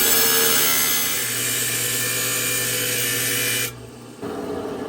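A lapidary rock saw grinds steadily through Montana agate with a loud, even whine that holds for several seconds, then cuts off abruptly before a brief softer hum returns.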